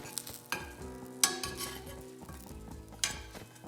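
Pancakes sizzle steadily in a frying pan while a makeshift implement scrapes and clinks against it, with three sharp knocks standing out over the constant frying hiss.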